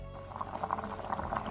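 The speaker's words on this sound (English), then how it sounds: "So now I added a bit more water" Water pours into a couscous pot of meat, courgettes and carrots in a soft, continuous trickling splash, fairly quiet and with no voices.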